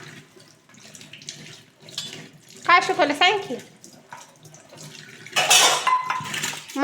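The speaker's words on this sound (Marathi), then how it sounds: "बर आवर घास पटपट एक राहिली वाटी." A child washes dishes and a small bowl under a running kitchen tap, with water splashing and utensils clinking in short bursts between spoken conversation, close and moderately loud.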